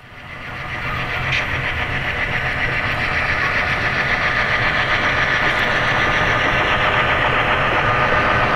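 Canadian Pacific freight train with a manifest crossing a steel truss bridge in the Okanagan, a loud continuous rumble and rolling clatter of wagons rising in the first second and holding steady, heard alone.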